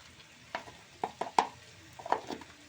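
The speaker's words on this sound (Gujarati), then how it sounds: "અને ઘડીક આપણે હમણાં હલાવતા રહીશું" Okra (bhindi) stirred in a hot pan, with a spatula scraping and tapping several times over a soft, steady sizzle, close and fairly quiet, no voices.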